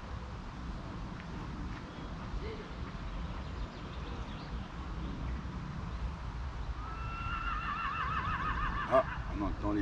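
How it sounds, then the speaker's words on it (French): Horses neigh at a picnic spot in Rouge-Cloître. A whinny rises faintly near the end over steady outdoor background noise, distant rather than close. "Ah, on entend les chevaux là."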